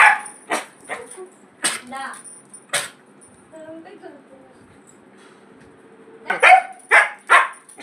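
Another dog fires off short, sharp barks in two bursts, several at the start and a few more near the end, with a quieter stretch between and faint household sounds underneath.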